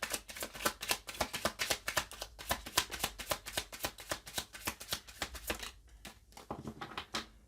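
Tarot cards shuffled by hand in a rapid riffling run of crisp slaps and flutters, close and steady, thinning near the end.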